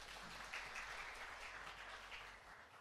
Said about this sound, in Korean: 우리 박수 한번 쳐주시고요.